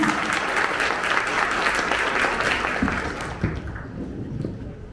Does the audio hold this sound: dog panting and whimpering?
no